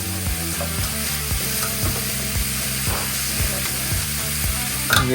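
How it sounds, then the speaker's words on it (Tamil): Onions tempered in a hot pan for a Tamil home-cooking dish sizzle steadily, with a rhythmic clicking, ratcheting sound repeating alongside the frying and no talking. "வெங்காயத்தை ஒருக்க தாளிக்கிறோம்"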